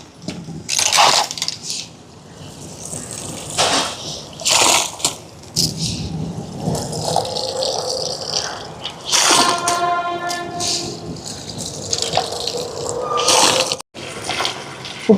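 Washed rice tipped into a pot of water at a rolling boil, giving a wet pouring splash with scattered clinks and bubbling, fairly close, alongside other kitchen handling noises.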